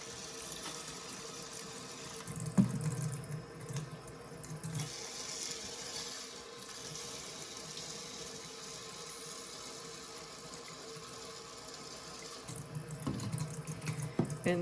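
Tap water running into cups of alfalfa and arugula sprouts for rinsing, a steady close splashing flow with louder gushes at the start and end, no talking.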